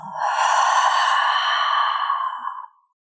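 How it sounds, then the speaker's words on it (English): A long, steady breathy exhale during a yoga session, sustained for about two and a half seconds at close range before tapering off into silence. "big inhale. And a long exhale."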